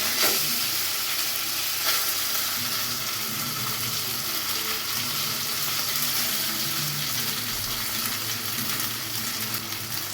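Soybean paste hitting hot oil over a cumin tempering sizzles and fries steadily and loudly at close range, a dense continuous hiss with no voices.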